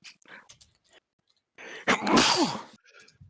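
One loud, close sneeze bursts out after some quiet shuffling and small sounds, followed by brief soft noises.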